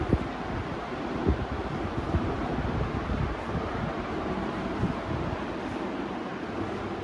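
A Crompton Premion Aura Prime ceiling fan runs with a steady, even whoosh of moving air that holds at a constant level throughout, with no voices.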